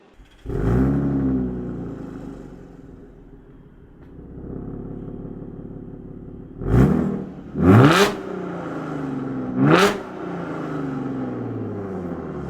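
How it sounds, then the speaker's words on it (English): An SUV engine with a swapped-on Lamborghini Urus exhaust cranks and catches, then settles into a loud idle with an Audi V6 character, followed by three sharp throttle blips that roar up and fall back. "startup's a little louder. And already I'm hearing a lot of that Audi V6"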